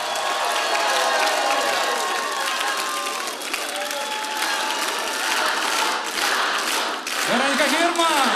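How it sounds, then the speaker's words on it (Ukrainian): Concert crowd applauding and cheering for a creative school of young talents at a live show, loud sustained clapping with whistles and shouts rising over it, and a voice joining near the end. "Творчій школі юним талантам оплески!"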